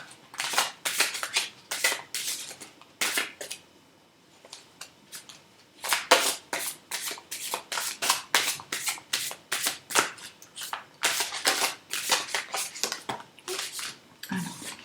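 Tarot cards being shuffled by hand in repeated crisp riffling bursts with brief pauses, close and clear with no talking.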